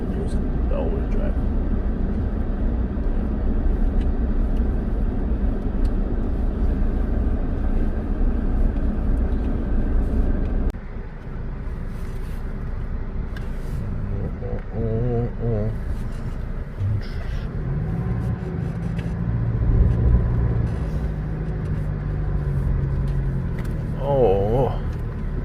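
A Toyota Hilux diesel pickup with a manual gearbox, in rear-wheel drive, cruises on the road. A steady low engine and road drone fills the cab throughout, with muffled voices at times.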